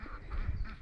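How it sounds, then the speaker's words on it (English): Two female Embden geese give a short honking call outdoors on a homestead, close and moderately loud. "These are 2 Ebden geese, both girls."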